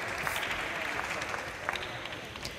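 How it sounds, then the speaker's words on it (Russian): Spectators in the stands at a Qatar Open table tennis match stir with scattered clapping and crowd noise, faint and distant, under some speech. "Оживились болельщики на трибунах"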